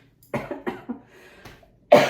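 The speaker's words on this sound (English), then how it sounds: "I don't know when this cough is gonna go away." A lingering cough from a person, a run of several harsh, close coughs in quick succession followed by a pause and one more loud cough.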